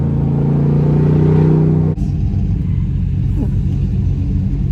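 A Jeep Rubicon 392 with a 6.4-liter Hemi V8 revs hard with a deep, loud roar that cuts off sharply, then settles into a lower rumbling idle with some engine rumble continuing.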